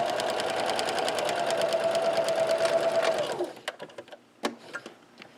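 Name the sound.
sewing machine stitching a backpack casing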